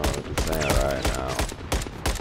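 Rapid gunfire from a Call of Duty Search and Destroy match on the Terminal map, a burst of sharp, loud shots repeating every fraction of a second and filling the whole moment.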